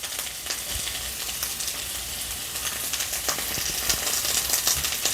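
Cabbage stir-fries in a hot pan for spicy Korean stir-fried octopus, giving a continuous loud sizzle with occasional stirring clicks, no voices.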